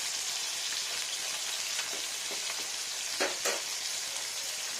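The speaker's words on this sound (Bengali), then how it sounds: "ভালো একটু স্ট্রং করে ভাজতে হবে" Carp coated in mint leaf, garlic paste, salt, turmeric and chili powder fries in hot oil, a constant hissing sizzle with a few sharp pops and spatters, close and even, no voices.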